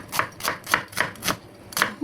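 Knife chopping vegetables on a cutting board for a meatball and monggo dish, about eight crisp, evenly spaced cuts in a steady rhythm, close and clear, with no talking.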